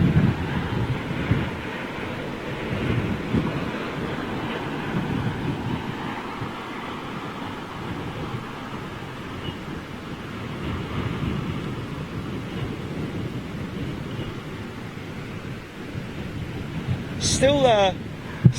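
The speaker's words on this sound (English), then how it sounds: "still a decent enough wind here" Strong gusty wind during Storm Francis at Heathrow Airport in London, a loud continuous rumble buffeting the microphone and swelling and easing in waves, with a brief higher sound near the end.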